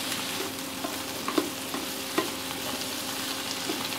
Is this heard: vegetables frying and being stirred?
yes